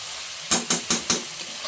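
Onion, garlic and ginger are sautéed for chicken curry, heard as four quick, evenly spaced scraping stirs against a hot pan over a faint steady sizzle, close and fairly loud with no talking.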